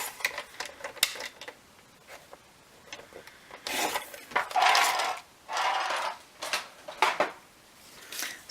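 Cardstock being trimmed on a paper cutter while making a card: a handful of close, dry scraping and slicing strokes of varying length, with light taps and rustles between them and no talking.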